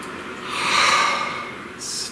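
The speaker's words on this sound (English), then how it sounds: "Please take a nice deep breath." A slow, deep breath drawn in and let out, a soft airy rush swelling and fading over about two seconds in a quiet guided-meditation setting, with a faint hiss at the end.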